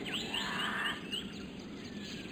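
A few quick, high, sweeping bird chirps in the first second, then fainter scattered calls over a quiet background, in a savannah video game.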